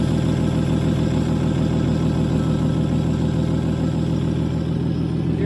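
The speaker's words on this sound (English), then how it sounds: "See if we can get this idle even lower." Steady, close idle of a Toyota FJ40 Land Cruiser after fuel system work, a dense, even low rumble holding constant throughout.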